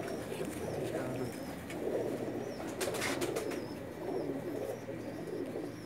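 Pigeons of a prized breed coo softly and repeatedly in a loft, with low rolling calls rising and falling over a faint background hum.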